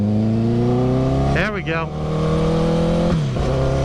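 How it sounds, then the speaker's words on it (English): Honda CBR 1000 motorcycle engine in traffic, loud steady engine tone with a quick rev blip midway and a gear change near the end, with a brief spoken remark over it. "Everybody likes a little CBR 1000 rev match."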